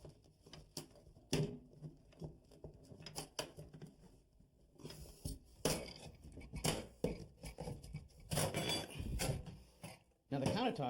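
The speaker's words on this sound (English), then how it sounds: "let's see if I can pry this up with a flat bar" Flat bar prying a self-rimming bathroom vanity sink up from its countertop after the caulk seal is cut: scattered sharp clinks, taps and scrapes in irregular bursts, close and moderately loud, with brief quiet gaps and louder clattering near the end.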